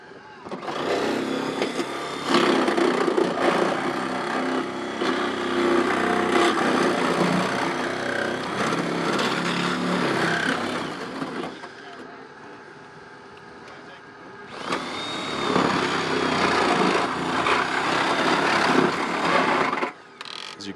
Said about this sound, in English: Back here on the C-post, they're going to continue that cut with the Sawzall.